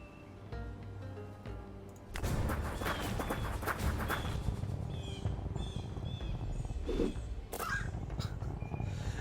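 Crows cawing in the Fantasy General 2: Invasion barbarian campaign, with several harsh caws standing out over a busy battle ambience of clatter and rustling.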